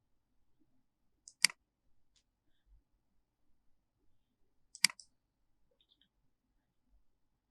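Two crisp computer mouse clicks, well apart, made while working through item entry in business software; quiet room otherwise, no talking.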